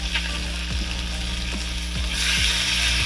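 Beef strips searing in a hot pan for Naruto-style BBQ ramen, a steady close sizzle with periodic scraping stirs roughly every half second, growing slightly brighter toward the end.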